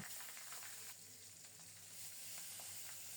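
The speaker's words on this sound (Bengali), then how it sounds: "সরিষার তেল গরম হলে গোটা জিরা ফোড়নে দিয়ে মাখানো মাছগুলি প্রথমে দিয়ে দেব" Pieces of rohu fish sizzle as they go into hot mustard oil tempered with whole cumin. The frying hiss is continuous and crackling, close and even throughout.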